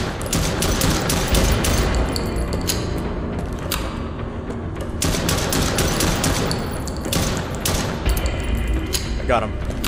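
Rapid bursts of gunfire in a bodycam-style horror video game, sharp repeated shots and clattering mechanical sounds over a loud, busy mix, with a person shouting excitedly at moments.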